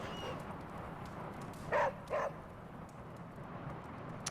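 Puppy Charlie whimpers in Marvel's Midnight Suns, two short high whines in a row over a steady low background hum.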